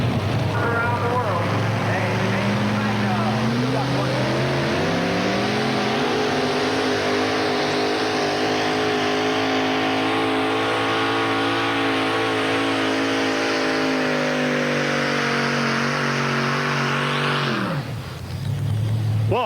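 A Chevy 4WD pulling truck, David Hobbs's Strictly Business, roars through a truck pull: a loud, sustained engine revving that climbs in pitch, holds at a high strained drone for many seconds, then cuts off abruptly near the end.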